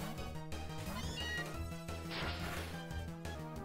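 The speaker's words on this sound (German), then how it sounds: "Wir bringen Mauzi." Meowth's cry in the video game PokéRogue, a short synthesized cat-like meow over looping battle music, followed by a crashing hit sound.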